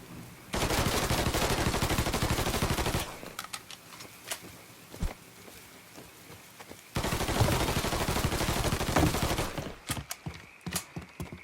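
Rapid bursts of gunfire from the video game Mafia 3, loud and dense with sustained volleys, a lull of scattered shots in the middle, then another heavy stretch and sharp isolated cracks at the end.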